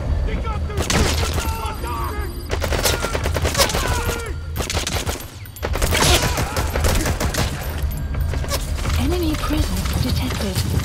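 Sustained gunfire in Metal Gear Solid V, continuous bursts of automatic shots with booms layered under shouted voices, loud and chaotic throughout with a brief dip midway.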